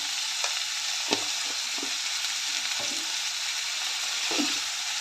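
Onion and tomato sautéing with salt in a pan for a drumstick masala, a steady broadband sizzle broken by several short scraping stirs of the spoon, close and moderately loud, with no voices.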